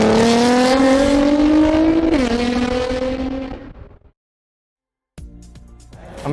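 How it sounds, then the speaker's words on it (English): A Liberty Walk Nissan GT-R engine revs hard and loud, pitch rising then dipping, cutting out abruptly, then after a second of silence firing up again with a sharp burst. "this is my Liberty Walk GT-R"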